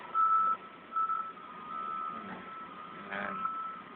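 A vehicle put into reverse sounds its backup beeper, a few spaced electronic beeps over a low motor hum, moderately close, with a faint clunk near the end.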